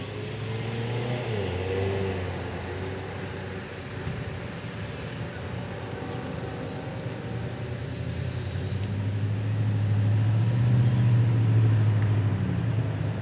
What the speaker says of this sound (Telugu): చాలా స్లో అయింది ట్రాఫిక్.